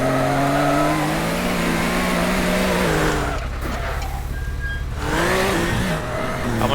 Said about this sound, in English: Super fast car needs to be driven.